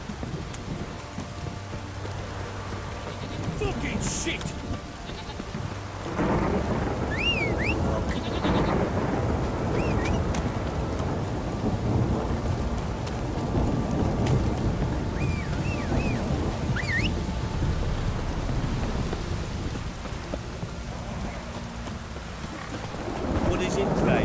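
Rain pours steadily in The Witcher 3 as a continuous hiss, while hooves clip-clop and deep rumbles roll underneath and a voice swears partway through.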